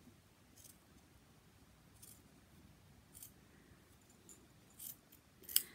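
Scissors snipping through zipper ribbon close to the metal teeth: a series of quiet, separate cuts spaced about a second apart, each a short crisp snip, the last one sharper and louder, with no talk.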